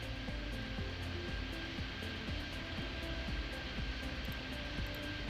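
Concorde jet airliner landing in the airport game Airport Madness 3D, a steady loud jet roar with low engine rumble and repeating whooshing pulses throughout, no talking.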